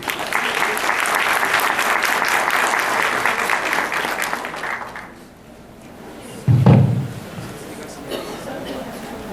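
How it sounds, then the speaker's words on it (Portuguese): An audience at a professional building-manager training event in Campinas applauds a consultant, dense clapping for about five seconds that fades out, followed by a loud knock and a few quieter sounds. "Uma salva de palmas."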